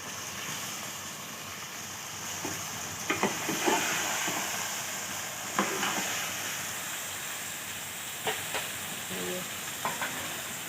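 Onions and beef liver sautéing in a pan, a continuous hissing sizzle with occasional clinks and scrapes of stirring, close and steady throughout.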